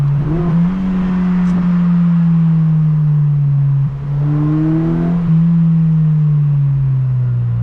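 Aftermarket intake on a car howls loudly inside the cabin, a steady resonant induction drone that climbs and falls in pitch as the engine revs, with a brief dip midway and no talking.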